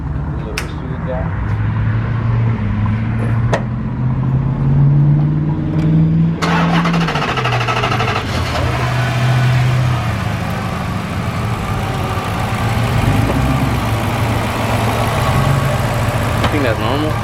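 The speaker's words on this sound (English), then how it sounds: "This is finna be the first startup right here." A Chrysler car engine fitted with new TRQ ignition coils and spark plugs cranks and fires up, revving briefly before settling into a steady idle, with someone talking over it.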